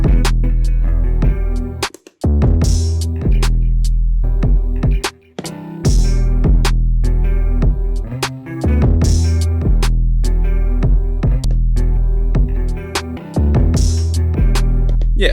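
A looping sampled guitar pattern from a Maschine MK3 in Ableton Live plays with bass and drums, steady and loud, pausing briefly twice before the riff picks back up.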